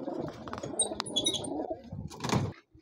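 Pigeons, including Saharanpuri and Allahabadi breeds, coo and chirp close at hand in a low, soft murmur, with a few sharper chirps and a brief flutter near the end.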